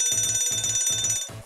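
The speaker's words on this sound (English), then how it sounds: "the man overboard alarm, which is 3 long blasts of the alarm bell" A ship's man overboard alarm bell: rapid metallic ringing in repeated bursts, a bright trilling alarm pattern with short gaps between, fairly loud and close.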